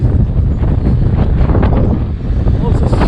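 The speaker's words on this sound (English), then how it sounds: "It's pretty windy right now." Strong wind buffets and roars across a microphone outdoors at a bus stop in northern Sweden, a dense, continuous rumble with no clear speech.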